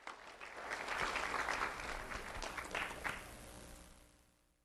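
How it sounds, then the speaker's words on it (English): An audience at a school award ceremony applauds, a sustained wash of clapping that holds steady for a few seconds and then fades out. "Let's have a round of applause for Andre Machado Orta."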